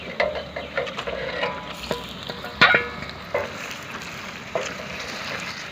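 Chicken pieces frying with browned onions and cumin in a handi, giving a steady sizzle broken by several sharp stirring clatters and scrapes, close and moderately loud, with no talking.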